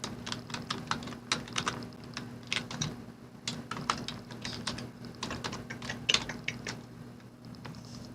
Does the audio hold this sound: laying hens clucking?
no